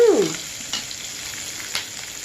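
Onion pieces and green chilies frying in hot oil for a Telugu chana dal and coriander curry, a steady close sizzle with a brief stir at the start and soft scraping clinks.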